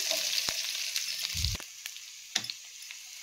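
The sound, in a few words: onions frying in a pan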